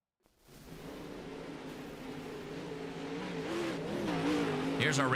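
Dirt late model race cars lap USA International Speedway, their engines rising from a faint start into a sustained, building roar at a distance, with some rising pitch sweeps.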